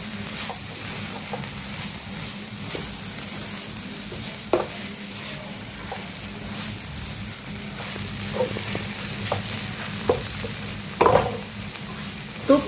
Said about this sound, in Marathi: आपला खीर चांगला परतत आलेला आहे